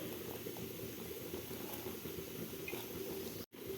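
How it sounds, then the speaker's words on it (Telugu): Milk with soaked sago pearls for kheer simmers at a close, steady bubbling boil. The soft, continuous burble carries no speech. "పాలు ఇలా మరిగిన తర్వాత ఇక అరగంట ముందు నానబెట్టుకున్నాం కదండి, సగ్గు బియ్యాన్ని పాలల్లో వేసుకోవాలి"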